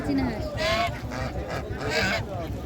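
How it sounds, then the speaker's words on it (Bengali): A goose honks at a busy poultry and duck market, giving a few short nasal honks close by while people talk over them. "দেখো বন্ধুরা সুন্দর একটা রাজহাঁস"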